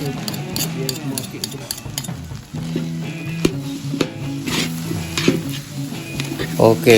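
Nasi goreng frying in Planta margarine in a pan on a wood-fired stove: steady sizzling with repeated scraping and clinking of a utensil stirring the rice, while a voice talks intermittently.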